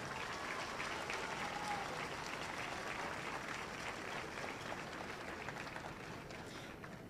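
Sustained audience applause at the opening ceremony of a national sports event for technological institutes, a dense steady wash of clapping from a large crowd, even in level and fairly distant throughout.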